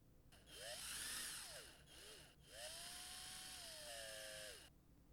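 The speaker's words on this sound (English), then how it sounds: "So, do we just drill a hole for the mast?" A power drill bores a hole for the mast of a small wooden boat in a woodshop, its whine rising and falling in pitch across several short runs and one longer sustained pass, fairly close and alone.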